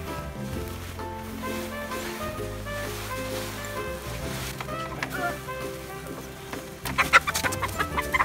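Young hens cluck and murmur in a busy coop over a steady low hum, with sharper squawks rising toward the end.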